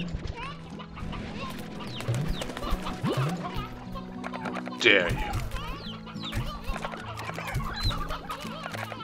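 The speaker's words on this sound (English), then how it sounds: "No, stop eating all my chickens." Chickens cluck and squawk busily in the video game Slime Rancher, a close, continuous run of cackles with a sharper burst midway, while someone talks over them.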